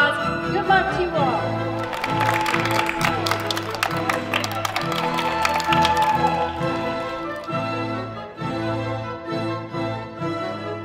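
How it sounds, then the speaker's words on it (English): Audience applause for candidates at an event: crowd clapping and cheering rising over background music with a steady beat, then fading as the music carries on. "Please give our candidates another big round of applause"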